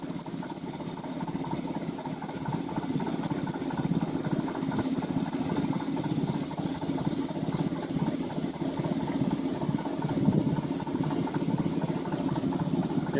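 A boat's engine motors along at just under 2,000 RPM, a steady low, even drone that holds constant for the whole stretch with no talk over it.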